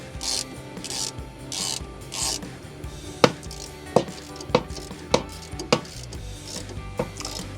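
A ratchet wrench with an 18mm socket tightens a strut mount bolt on a 2005-2014 Mustang during a Pedders GT500-style strut mount install, giving rasping ratchet strokes followed by a run of sharp, evenly spaced clicks, close up with no talking.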